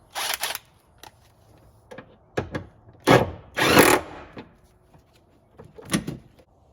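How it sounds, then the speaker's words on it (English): A 14mm third-row seatbelt bolt in a 2021-2025 Toyota Sienna is tightened with a tool, giving several short bursts of ratcheting and whirring separated by quiet gaps. "The next step is reinstalling and tightening the third row seatbelt bolt."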